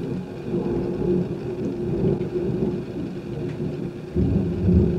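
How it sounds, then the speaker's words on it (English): Loud thunder rolls continuously through a storm, a deep sustained rumble that surges again near the end, with light rain noise underneath and no talking. "It's thundering really loud."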